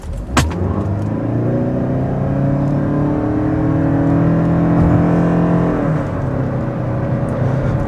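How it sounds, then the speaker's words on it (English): A 2024 Lexus NX350h hybrid with an ECVT transmission accelerates hard from a standstill to 60 mph, its engine droning at a steady, rising pitch with road roar under it, loud and close inside the cabin. "We get it up to 60 miles per hour."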